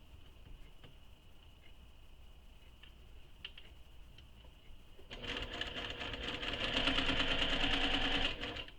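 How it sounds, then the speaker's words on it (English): A sewing machine stitches a crossbody bag closed, starting after a quiet stretch with a steady fast whirring run of needle strokes that grows louder toward the end, close to the listener. "I just stitch it with the machine."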